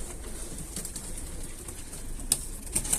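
A sick pigeon being cared for gives soft, low cooing close by, a few brief murmurs over a steady background hiss with one or two sharper clicks near the end.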